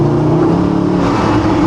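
Mercedes-Benz with stock exhaust, engine revving loudly and continuously up close in a brief, sustained burst of throaty roar.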